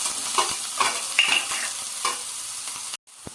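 Chopped onion and mustard seeds tossed into hot oil for a kande pohe tempering, sizzling steadily with a spoon scraping and stirring the pan in irregular strokes, close and continuous before a brief cut.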